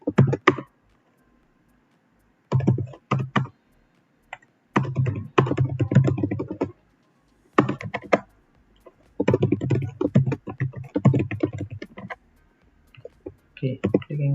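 Someone types computer code on a keyboard, producing bursts of rapid clicking separated by pauses, close and crisp, in irregular runs of a second or two each.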